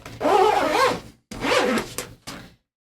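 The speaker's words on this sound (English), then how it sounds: "Very nice zippers." Zipper on a plush, padded Fender bass gig bag being pulled open in three strokes, a long zip, a second long pull and a short final tug, close and clear with no talking.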